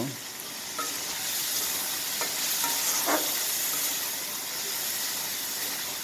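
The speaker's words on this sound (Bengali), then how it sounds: "ঢাকনাটা উঠিয়ে আবার একটু নেড়ে ছেড়ে দেব।" Food frying in a pan with the lid just lifted, stirred in the open: a steady, broad hissing sizzle throughout, with a few light scraping strokes, no voices.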